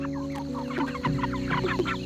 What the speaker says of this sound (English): Nothing goes to waste when you got ferocious dinosaur chickens.